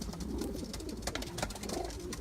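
A short stretch of close pigeon cooing, soft rolling calls overlapping in quick succession against a light background hiss.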